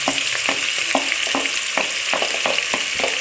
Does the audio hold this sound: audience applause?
no